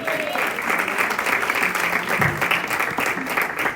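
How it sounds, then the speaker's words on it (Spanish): A church congregation applauding for Christ, a dense, continuous patter of clapping with a voice speaking faintly underneath. "Denle ese aplauso a Cristo."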